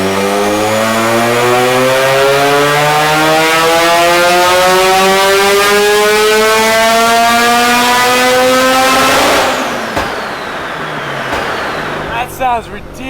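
A modified, turbocharged Mazda RX7 rotary engine revs hard on a dyno run, a loud rising scream climbing steadily for several seconds before cutting off abruptly, then dropping to a rough idle with brief turbo chatter; a voice speaks near the end.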